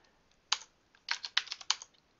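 A short run of typing on a computer keyboard, about a dozen crisp, close key clicks arriving in a quick uneven burst after a brief pause, with no speech.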